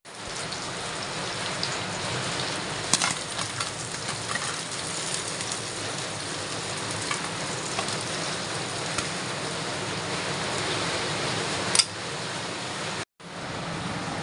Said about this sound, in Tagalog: Napakalakas naman ngayon ng ulan.